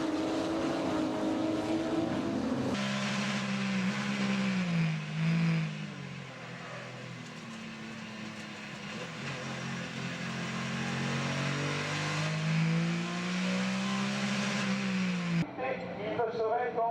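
Porsche Carrera Cup race cars at a season-final race start, engines loud and revving steadily with the pitch swelling and dipping as they pull away, a commentator talking over the roar.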